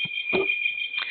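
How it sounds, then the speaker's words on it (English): A hard drive backing up gives off a steady, high electronic tone like a continuous beep that runs the whole time, with a few faint low thumps underneath. "Apologies for that beeping in the background if you can hear it."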